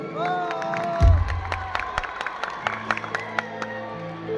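Crowd applause and cheering at a college freshers' welcome event, a loud burst of clapping and shouts rising over held musical tones and continuing in uneven rhythmic claps.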